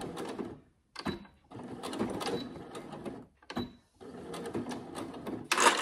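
A sewing machine stitches a seam along the edge of vinyl, running in several bursts of busy mechanical whirring separated by short pauses, fairly close and steady.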